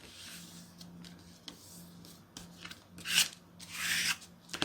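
Paper being folded and creased into a Mjolnir-style paper airplane, with soft rustling and sliding scrapes, brief crinkles and two louder creasing swipes near the end, close and quiet with no talking.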